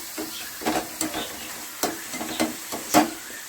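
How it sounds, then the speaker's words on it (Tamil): Sliced potatoes for crispy french fries frying in oil over low heat, with a soft bubbling sizzle broken by several sharp clatters and scrapes of stirring, heard close with no talk. "செகண்ட் டைம் இது ஃப்ரை பண்ணதுக்கு ஆயிலில் போட்டுட்டேன்."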